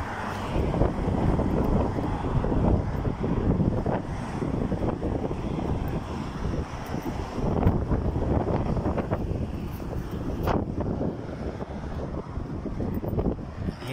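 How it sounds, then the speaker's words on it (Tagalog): Steady wind roars and buffets the microphone outdoors in Jeddah, a continuous low rumble with gusts rising and falling throughout. "Mahangin sa labas."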